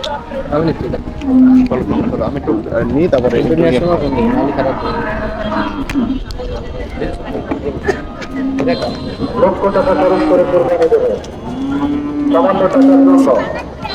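Cattle lowing at a busy outdoor cattle and goat market, several loud drawn-out moos from nearby animals repeating amid constant crowd chatter and people talking close by.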